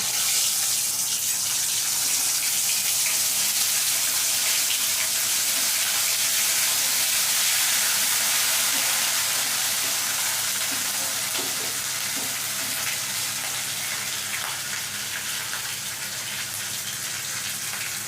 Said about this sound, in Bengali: এবারে এখানে আমি বাদাম, জিরে আর আদা একসাথে বেটে রেখেছিলাম, সেইটা দিয়ে দিচ্ছি।